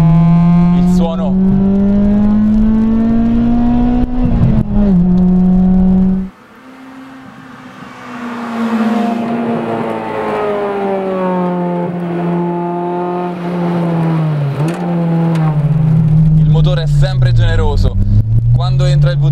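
Honda Integra Type R engine fitted with a Spoon exhaust, different ECU mapping and a different intake, revving steadily under load with a strong rising and falling drone, heard from inside the car with someone talking over it.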